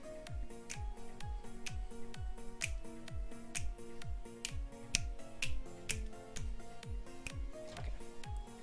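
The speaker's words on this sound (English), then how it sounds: "No more snazzy finger snaps." Finger snaps land in a steady rhythm on the beat of a tonal, tango-like game music track, crisp and fairly quiet, repeating throughout.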